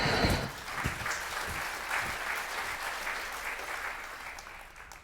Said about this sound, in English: a tidal wave of cheering washed over Kutaro